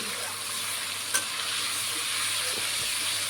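Potatoes fry in a salted pan, giving a steady broadband sizzle throughout with a single brief clink just past one second and no voices.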